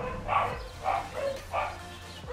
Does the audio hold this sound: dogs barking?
yes